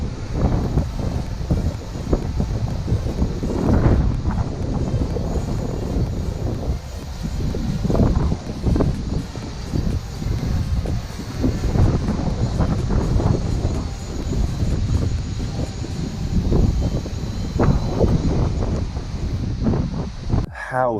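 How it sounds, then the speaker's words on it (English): Heavy wind buffeting the microphone, a constant loud rumbling roar with gusty surges throughout and no clear voices. "just listen to how windy it is"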